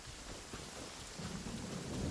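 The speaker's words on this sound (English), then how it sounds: "Quite a downpour. Nothing will get done until it clears." Heavy rain pours down in Genshin Impact as a steady, dense hiss that grows slightly louder toward the end, with a low thunder-like rumble underneath and no voices.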